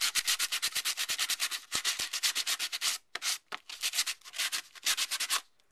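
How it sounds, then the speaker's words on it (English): Embossed paper rubbed with a medium or rough sanding block in a papercraft demo, fast rhythmic back-and-forth scratching strokes, close and crisp, with brief pauses between bursts. "And what I'll do is sand it with a medium or rough sanding block."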